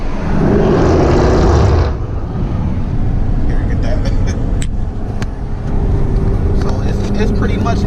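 A Jaguar F-Type R in sport mode rumbles with a loud engine and exhaust, a louder burst at the start and sharp crackling exhaust pops later on, under a person talking.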